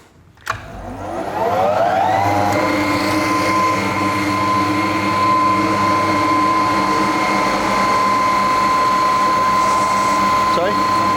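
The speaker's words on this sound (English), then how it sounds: "that's pretty much how you sand a floor with a floor sander, how you use a floor sander" A floor sander starts up on a floor after a short thump. Its motor whine climbs in pitch, then settles into a loud, steady, close-up drone that runs unbroken to the end.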